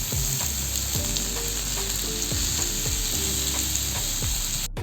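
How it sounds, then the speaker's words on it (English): Soya paneer tikka pieces grill on a hot tawa with a steady close sizzle, punctuated by several soft clinks and scrapes of a utensil, and no voices. "Let's grill it on the tawa."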